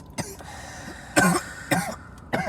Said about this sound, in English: if your body's healthy, then you won't have to cough like your boy